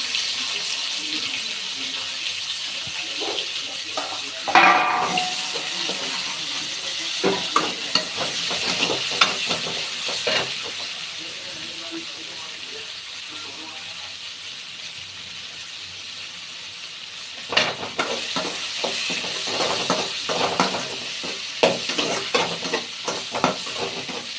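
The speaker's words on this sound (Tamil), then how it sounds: "கட் பண்ணி வச்சிருந்த தக்காளியையும் போட்டுக்கலாம்" Onions and chopped tomatoes fry and get stirred in a pan while preparing a Tamil spinach kootu, with soft sizzling, clattering spoon scrapes in bursts, and a stretch of running water in between; no talking.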